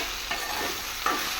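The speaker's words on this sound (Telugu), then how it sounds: "బెండకాయ ఫ్రై చేస్తున్నా." Okra frying in a pan with steady sizzling throughout and a couple of scraping stirs of a spatula, close and moderately loud, with no voices.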